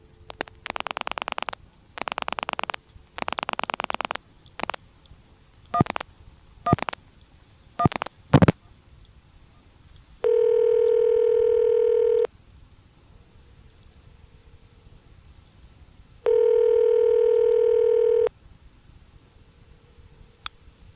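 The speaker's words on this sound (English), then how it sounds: "Here's the intercept." On an ITT Pentaconta crossbar switch line in Asheboro, North Carolina, a series of buzzy bursts and sharp clicks leads into two long, steady, clear intercept tones separated by a pause, heard alone with no talk.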